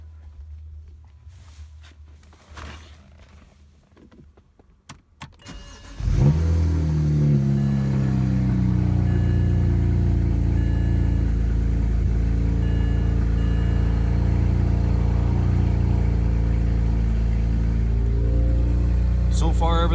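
A BMW 335i with an N54 engine cranks and catches after a few quiet seconds, then settles into a steady, loud idle that continues to the end.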